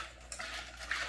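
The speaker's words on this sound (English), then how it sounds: "Now I'm gonna whisk this up nice" Ingredients for a Portuguese beef jerky marinade being whisked in a bowl, with soft clinking and scraping against the bowl and a brief louder tap, close and fairly quiet, no voices.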